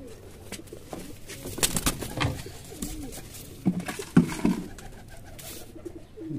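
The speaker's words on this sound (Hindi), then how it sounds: "ये जो इस साइड में कबूतर हैं इनको इधर करते हैं ना" Several pigeons coo softly nearby in low, throaty bursts, with rustling and occasional flutters mixed in and no one speaking.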